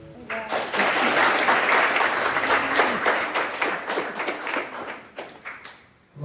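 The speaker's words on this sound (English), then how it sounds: "Give a round of applause to them." A crowd at a boxing gym re-opening event claps loudly, a thick roar of hands that gradually thins into scattered individual claps before fading out, with brief speech at the edges.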